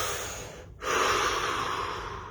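A single deep inhale and exhale taken during a guided shoulder-release relaxation exercise, close and fairly loud, preceded by a brief pause of near silence, with no talking.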